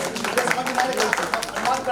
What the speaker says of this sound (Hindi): सबके लिए तालियां बजाओ, संस्कृत में बहुत अच्छा बोला है।